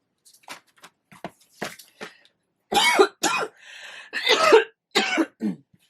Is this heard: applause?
no